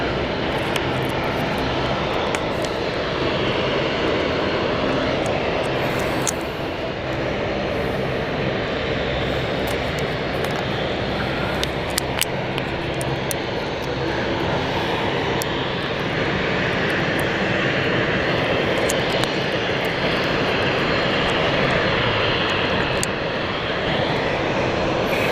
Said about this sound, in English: Right, we got German Airways landing soon.